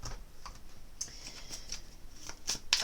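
Tarot cards are handled and pulled from a deck, making soft close flicks, slides and light taps in quiet, irregular bursts.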